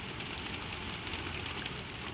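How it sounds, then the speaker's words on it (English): Steady, even rain patters and hisses on the cap of a windmill overhead, a soft continuous wash with no other sounds. "The cap holds the rain above you, a low, even drumming"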